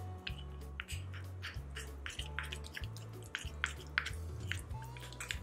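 Curd being stirred with kasturi turmeric into a paste, giving soft wet squishing and dripping clicks in a steady irregular rhythm, close and fairly quiet with no talking.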